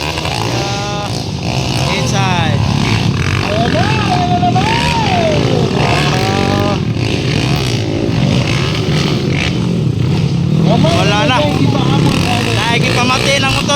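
Underbone motorcycle engines rev steadily through an open final race, a continuous loud buzzing drone running under constant excited commentary and crowd noise.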